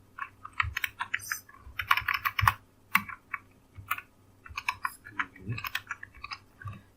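Code being typed on a computer keyboard, close and crisp, with rapid irregular clatters of keys in bursts and short pauses, no talking.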